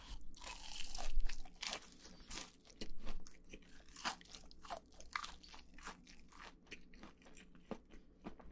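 Crunchy cheese balls chewed close to the mic in a mukbang, with a steady run of sharp, crisp crunches and bites, loudest early on and then softer and irregular, with no talking.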